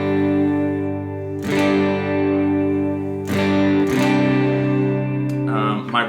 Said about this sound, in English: Here's my clean tone.